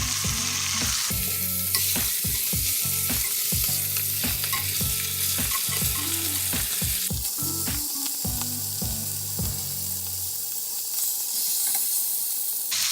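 Ribeye steaks searing on their edges in a hot skillet, a loud, steady sizzle broken by rhythmic clanks and scrapes as the meat is held and turned, with a hiss continuing after the steaks are moved.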